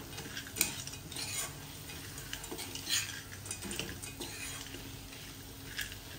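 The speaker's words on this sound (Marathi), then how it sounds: "थोडे परतून घेऊया सांडगे घातल्यावर." Sandge dumplings are stir-fried in a pan under a soft sizzle. A metal spoon scrapes and clinks against the pan in irregular strokes, close and fairly quiet.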